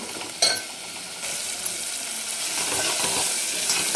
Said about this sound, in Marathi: छान मिक्स करायचं एक मिनिटचं म्हणजे आपले टोमॅटो नरम होतील